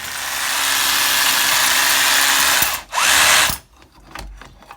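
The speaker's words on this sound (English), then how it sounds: "I've just drilled a hole on the opposite side of this wall" A power drill bores a hole through a house wall for cable conduit, a loud steady high whine for nearly three seconds, a brief dip and burst, then it stops, leaving faint clicks and rustling.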